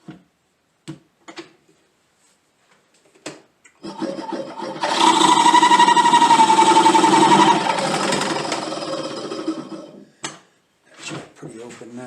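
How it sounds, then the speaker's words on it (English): A drill bit bores into a briar pipe bowl in a loud whirring burst lasting several seconds, framed by scattered clicks and handling knocks before and after. "I got to go just a tick more with the drill bit."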